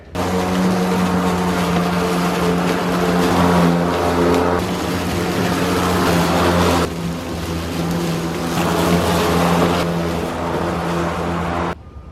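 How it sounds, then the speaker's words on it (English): A lawn mower mowing a residential lawn, a loud, steady engine drone close by, with a brief dip in the middle and cutting off at the end. "I mowed the lawn, did like the weed eater, and then I trimmed our bushes"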